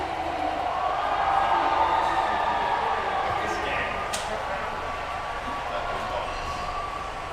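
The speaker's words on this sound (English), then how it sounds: "The crowd is going wild." Crowd at the Eurovision Song Contest 2022 Grand Final roaring and cheering in a broadcast, a continuous dense wash of noise held at a steady level for several seconds, with a voice talking over it.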